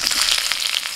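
Chopped onion frying in a hot pan after whole cumin, bay leaf and garam masala, a dense, loud, continuous hiss and sizzle close up with no voices.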